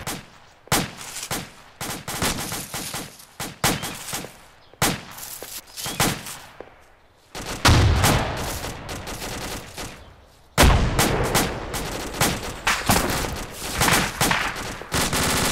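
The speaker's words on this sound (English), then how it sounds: "Open fire guys, we're under fire." Heavy gunfire rips around troops under attack, with loud overlapping machine-gun bursts and single shots. Close, dense volleys keep coming throughout, with brief lulls between flurries.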